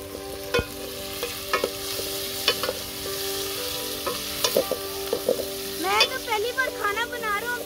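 Steady sizzling as tomatoes and green chilies fry in a hot pan for chicken pulao, with occasional stirring clinks and scrapes, close by, with faint birdsong-like chirps near the end.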